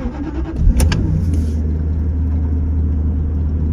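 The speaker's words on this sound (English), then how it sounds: "Car starts up and runs very smoothly." A 1997 Jaguar XK8 convertible engine cranks and catches, then settles into a steady, smooth low idle hum, close and fairly loud.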